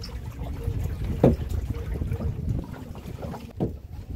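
A fishing boat motoring through the Sundarbans waterways, its engine giving a steady low drone mixed with water wash and wind noise, with a couple of brief knocks standing out.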